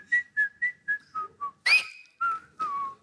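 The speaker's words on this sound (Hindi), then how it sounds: "अपनी फिल्म की सीटी मारी और नहीं कुछ" A person whistles loudly in a comedy show setting: a run of about six short, evenly spaced tonal notes, followed by a sharper, louder rising wolf-whistle and two longer falling whistles, heard alone with no talk.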